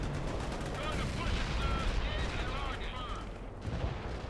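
Sustained rattling machine gun fire from fortifications in the real-time strategy game World in Conflict: Soviet Assault, steady and dense battle noise with overlapping bursts, blended with quiet radio voices.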